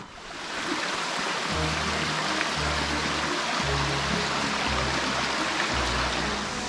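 Waterfall and mountain stream at Momo-o Falls in Tenri, Nara: a steady, close rush of falling water with a low rumble underneath, continuous throughout, no voices.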